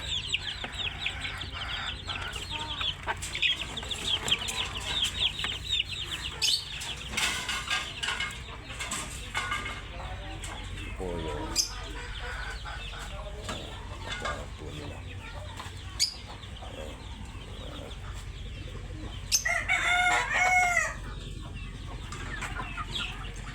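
Chickens cluck busily throughout, close by, and a rooster crows briefly near the end over a steady farmyard background.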